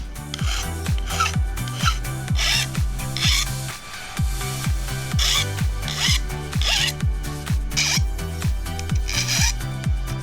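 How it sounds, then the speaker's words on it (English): Metal file rasping burrs off a rough sawn edge in regular back-and-forth strokes, about two per second, loud and close, with a short pause partway through. "I used a metal file to take the burrs off"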